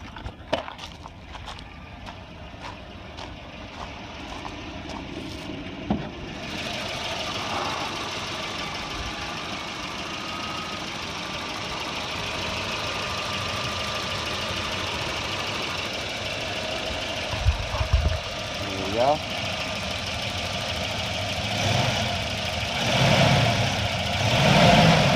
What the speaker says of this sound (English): Very healthy engine. No knocking. That ticking is just the valve clicking.